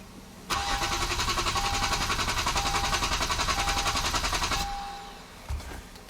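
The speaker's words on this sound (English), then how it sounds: "I hope you guys heard the engine cranking." A Hyundai Genesis with a crank-no-start fault cranks steadily for about four seconds, the starter turning over in a rapid, even rhythm without catching. It is loud and close, then cuts off into quiet with a brief bump afterward.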